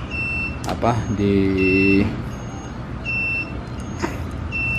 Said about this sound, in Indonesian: Yang lainnya aku tambahin alarm ini aja sih